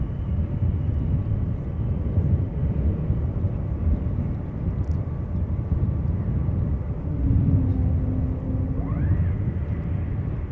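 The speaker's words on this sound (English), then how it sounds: "Beautiful lighting over here as the Saudia cargo vacates from the runway." A Saudia cargo aircraft taxis off the runway at Schiphol Airport, giving a steady, broad jet rumble with a faint rising whine near the end, carrying on without a break and no talk.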